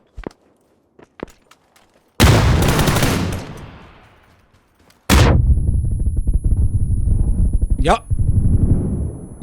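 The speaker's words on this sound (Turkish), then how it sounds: "Şu an her yerden sıkıyorlar." Gunfire in a video game: a few sharp isolated shots, then two long loud bursts of rapid automatic fire close by, with a whizzing sweep near the end.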